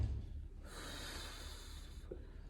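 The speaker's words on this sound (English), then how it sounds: "Let me hear you breathe." A single forceful breath out during a Pilates core exercise, a close, airy rush lasting about a second and a half over faint room noise, with no talking.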